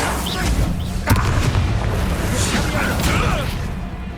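Confringo blasting spell explosion in Hogwarts Legacy, a dense rumbling boom with thuds and a sharp burst near the one-second mark, layered over continuous game combat noise and voices throughout.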